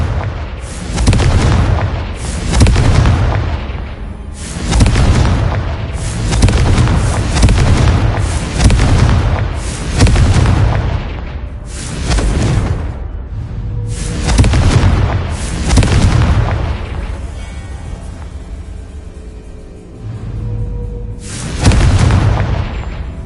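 Confringo fire spell blasts in Hogwarts Legacy, a long run of heavy booming explosions in quick clusters, deep and loud, each burst rumbling and decaying before the next, with a brief lull near the end.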